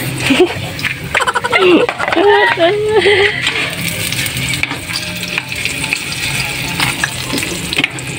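Banana fries frying in hot oil, a steady crackling sizzle with occasional clinks of a utensil, heard under a voice talking and brief background chatter.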